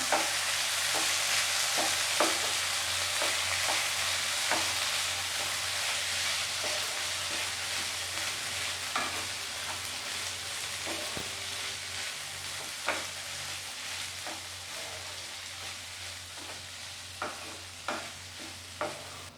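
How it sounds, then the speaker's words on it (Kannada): Soaked sabudana is stirred and mixed in a hot pan for sabudana khichdi. A soft sizzle runs underneath while a spoon scrapes at irregular intervals, close up, with no talking. "ನೆನೆಸಿಟ್ಟಿದ್ದು ಒಂದು ಬೌಲ್ ಸಾಬುದಾನಿ ಹಾಕತ್ತೀನಿ ಹಾಕಿ ಮಿಕ್ಸ್ ಮಾಡತ್ತೀನಿ"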